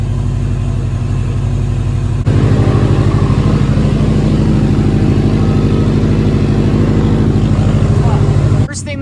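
A Subaru Forester STI running rich just after start-up settles into a loud, steady idle with a thrumming rhythmic pulse, while a voice talks over it and the engine cuts out at the end.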